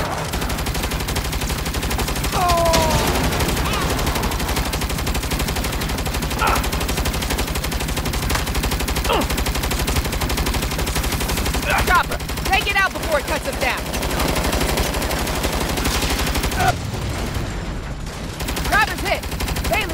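Automatic and single gunshots crack in repeated bursts through the Saints Row (2022) combat scene on PC, over a steady game background, with characters' voices talking and shouting between shots.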